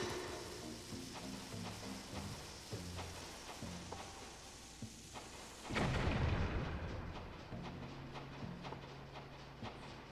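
A bomb in The Legend of Zelda: Skyward Sword bursts with a loud, deep boom after being struck, rising sharply out of light game music and ambient effects and then fading back into the soundtrack.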